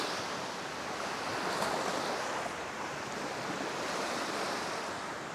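Surf washing onto a clean beach, a steady broad roar of breaking waves with some wind noise buffeting the microphone, constant and moderately loud throughout with no voices.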